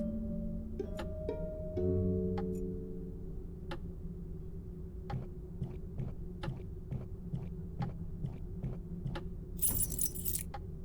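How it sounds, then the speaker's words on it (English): A ring of keys jangles and clinks against a locked door lock in a video game, a series of sharp metallic taps and rattles spaced irregularly over a low hum, with a brighter jingle near the end. "Strange, none of the keys fit."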